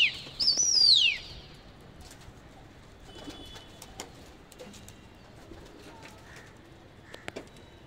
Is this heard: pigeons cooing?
yes